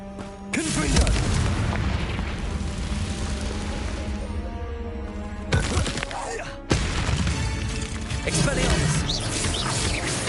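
The Confringo spell in the Hogwarts Legacy video game lands with a heavy booming explosion, followed by further blasts and crackling bursts of combat effects, loud and close, with a voice heard among them.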